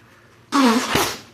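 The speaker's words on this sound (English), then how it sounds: "let's blow my nose real quick" After a moment of quiet, a loud, sudden burst of nose blowing into a tissue, harsh and honking for most of a second.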